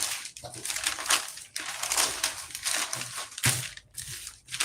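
A sheet of pattern paper folded and crumpled by hand during sewing work, giving close crinkling, rustling and crushing bursts broken by brief pauses.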